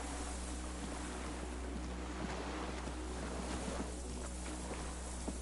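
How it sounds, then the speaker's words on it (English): Distant cargo ships and signal horns carry over open water in Disco Elysium, a steady low drone with wind and surf washing beneath, faint and continuous throughout. "The distant sound of cargo ships."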